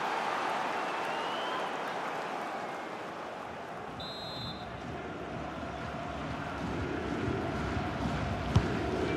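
Football fans roar in the stadium during an A-League match between Western Sydney Wanderers and Melbourne Victory, a dense, steady wash of crowd noise with a faint commentator voice underneath.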